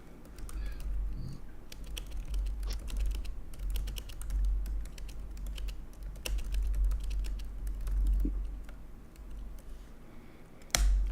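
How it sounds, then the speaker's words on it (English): Typing on a computer keyboard, a dense, rapid patter of clicks in quick bursts with brief pauses, close-miked over a low steady hum and no talking. "I'm typing it right now."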